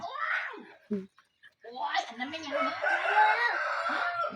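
Chickens bought at a market crow and cluck loudly and close by. A short cackle and a few clucks come first, then a long, drawn-out rooster crow fills the rest of the clip.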